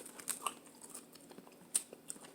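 Someone bites into and chews a crunchy, browned fried egg roll at close range, producing a few sharp crisp crackles and softer crunching chews at a quiet level with no speech.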